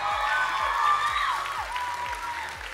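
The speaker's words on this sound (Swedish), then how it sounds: "En till applåd för Kuri Eri!" Crowd applause at a cosplay contest at NärCon Expo in Södertälje, a sustained wash of clapping from a seated audience with some cheering, moderately loud and steady, under a faint musical backdrop.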